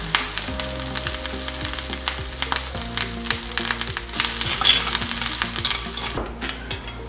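Shallots, chili powder and curry leaves crackle and sizzle in hot coconut oil, a loud steady frying hiss with repeated stirring scrapes and clinks throughout, no voices.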